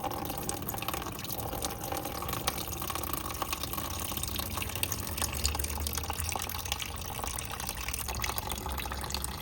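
Coolant drains out of a Ducati Hypermotard SP 939 into a container as a continuous, fairly quiet trickling and splashing stream that holds steady for several seconds, with no talking.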